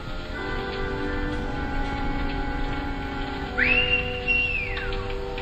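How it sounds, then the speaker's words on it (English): A person whistles for a horse in an old Western film: a single sustained rising whistle with a falling tail, heard alone over a faint musical background hum. "Stop whistling for that horse."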